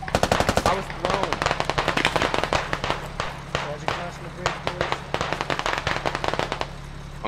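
Rapid automatic gunfire crackles in the military shooter Squad, dense bursts of loud sharp shots at first that thin into scattered shots, with players talking over the radio throughout.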